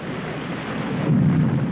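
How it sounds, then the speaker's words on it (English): Film sound effect of a thunderstorm with rain on the Bay of Biscay, a dense low rumbling roar of heavy rain swelling louder toward the end, with no voices. "May we please take some shelter from the rain? I'm not so used as you to storms on the Bay of Biscay."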